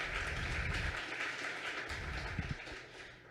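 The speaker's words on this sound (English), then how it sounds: "Can we give them all one more round of applause?" An audience at a sustainability summit in Louisville claps, a steady wash of applause that sounds fairly distant and faint and fades slightly toward the end.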